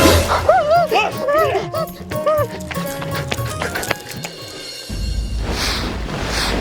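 A village dog whines and yips in high, rising cries over the first two seconds, followed by scattered barks and shuffling under people talking nearby.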